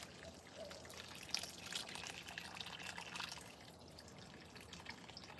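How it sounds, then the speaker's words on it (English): Water pouring from a hose or can onto soil in pots of newly planted persimmon trees, a steady broad splashing and trickling that runs continuously at moderate, fairly close level. "when you initially plant them, you make sure you water these jokers well"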